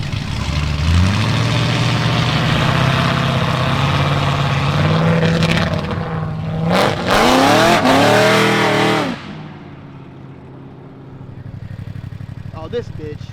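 A Ford Mustang doing burnouts on private property revs and roars loudly up close, the engine holding a steady drone, then screaming higher for a few seconds before dropping off.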